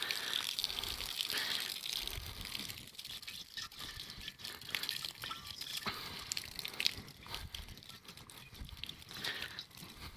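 Old fuel and rust sloshes and trickles as it is poured out of a Coleman PQ chandelier lantern fount, a steady watery gush with drips and splashes close by.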